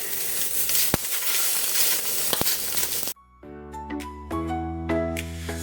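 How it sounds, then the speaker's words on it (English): Octopus tentacles char on a grill with a steady, close hiss and sizzle for about three seconds before cutting abruptly to music. "You just want to char them and heat them through."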